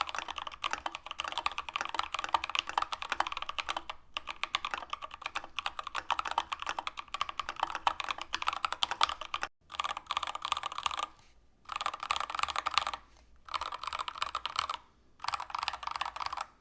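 Typing on an RK100 Pro 96% mechanical keyboard fitted with pre-lubed Gateron brown switches, foam inside the case and XDA keycaps: rapid, close, muted clacking in continuous bursts, broken by a few short pauses near the end.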